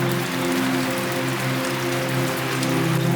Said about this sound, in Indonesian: Langsung hujan, gila.